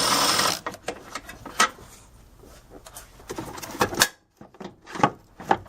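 A wrench or ratchet works a bolt loose on a Ford Mustang S197 airbox in short bursts of clicking and rattling, close by and moderately loud, with brief pauses between them.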